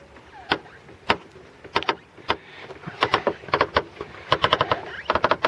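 A VAZ 2111's steering creaks and knocks from a worn front strut support bearing as the wheel is turned, sharp clicks spaced irregularly at first, then coming faster in dense clusters, close and fairly loud.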